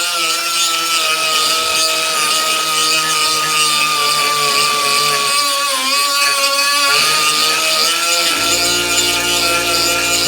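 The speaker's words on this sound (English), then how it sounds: "the compressor turned back on." Air compressor running steadily in a garage during a Charger crew cab restoration, a loud continuous motor drone with a strong harmonic hum that shifts pitch slightly and drops lower near the end, with no talk over it.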